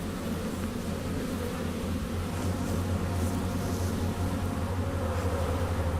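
Buckfast honey bees confined in a transport box, a dense continuous buzzing hum close by with a steady low drone and no voices.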